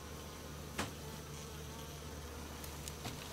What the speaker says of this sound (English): So I'm going to take the rest of the bee out, and then I can seal them up